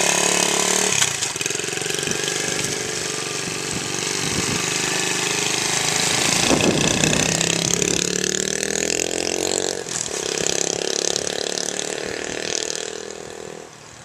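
A motorcycle engine, freshly given valve and clutch adjustments, runs steadily with a mechanical clatter, then revs up around the middle and settles back to idle before cutting off near the end.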